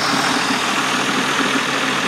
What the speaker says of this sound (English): the tractor was going